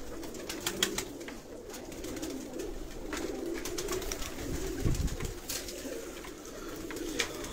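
Rampuri pigeons coo softly and repeatedly, a low rolling murmur with a few sharper flutters and calls at nearby range.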